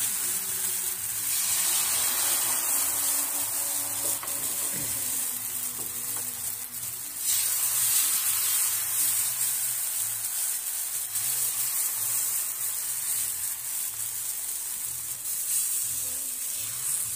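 Wheat-flour batter sizzling steadily on a hot tawa, a continuous bright crackling hiss with soft scraping touches, close and alone without talk.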